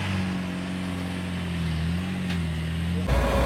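A Mitsubishi L300 pickup engine holds a steady, loud, droning rev under throttle at close range. It shifts abruptly near the end.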